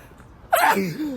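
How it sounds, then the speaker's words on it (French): A single sharp sneeze bursts out outdoors in the wind after a quiet moment, close and loud, trailing off into a short voiced exhale. "En fait, là j'ai envie d'éternuer."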